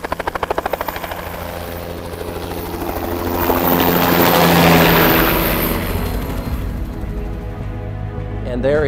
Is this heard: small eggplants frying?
no